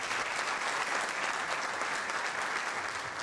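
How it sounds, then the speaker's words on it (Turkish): Dense, steady applause from an audience at a Sıra Gecesi music night in Şanlıurfa, many hands clapping together at an even loudness for the full stretch, with no voices standing out. "biz şu sanatçılarımızı bir alkışlayalım bakalım"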